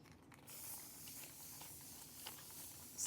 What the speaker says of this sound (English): Spray it real good for bubbles.